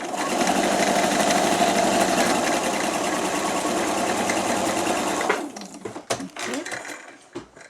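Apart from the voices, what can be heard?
sewing machine quilting a patchwork cushion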